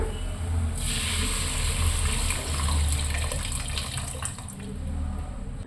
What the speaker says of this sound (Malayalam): നമുക്കിതിലേക്ക് പുളിവെള്ളം ആഡ് ചെയ്യാം